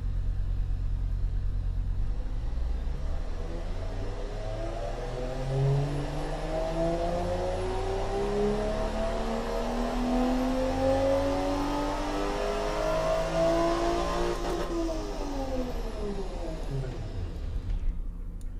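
A 3.5-liter turbocharged inline-six in the Automation car game revs up through its range, the engine note climbing and falling in repeated sweeps, loud and steady, with someone talking over it.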